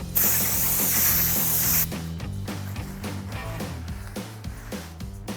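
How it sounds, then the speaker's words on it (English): A loud aerosol spray hisses in a steady burst for about two seconds onto the outer surface of a Jeep Gladiator brake rotor, then stops, leaving rhythmic music playing underneath. "And then spray down that outer surface."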